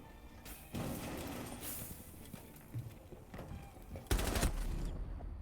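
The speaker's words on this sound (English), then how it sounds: "We do hear some gunfire." Bursts of gunfire in a Rainbow Six match, rapid volleys heard faintly through a noisy background, with a sharper, louder burst near the end.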